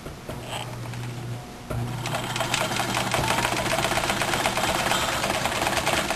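A domestic sewing machine runs steadily while hemming a knit t-shirt with a small stitch length, a brief start then a continuous close whirring and rapid needle rattle without pause.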